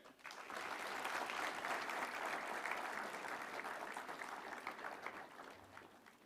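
Sustained applause from an audience at a conference valedictory ceremony, steady clapping that swells quickly and holds for several seconds before tapering slightly.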